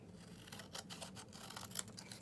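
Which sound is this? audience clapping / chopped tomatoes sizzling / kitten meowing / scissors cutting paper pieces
scissors cutting paper pieces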